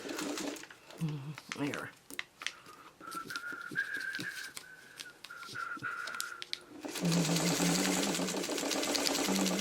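A sewing machine stitches fabric for a quilt block: a fast, even mechanical whirr with a rattling rhythm, heard mostly alone near the end after a stretch of quieter sounds, whistling and a brief word.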